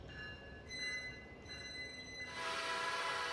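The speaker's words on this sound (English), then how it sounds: "I'm gonna get off the train because we did stop." Train in a railway simulator game coming to a stop, with steady tonal hum and high whines under a broadband rumble that swells into a louder hiss near the end; no talk.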